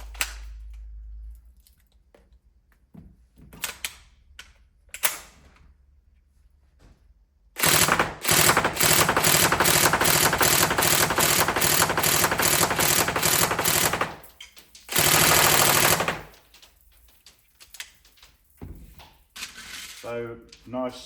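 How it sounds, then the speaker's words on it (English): A TM MP5A4 NGRS airsoft electric gun with a 35K motor fires long sustained bursts during a stress test, a loud rapid mechanical rattle, with scattered clicks and handling noises around the bursts. "So nice snappy trigger response on that 35K. Yeah, good rate of fire, not crazy."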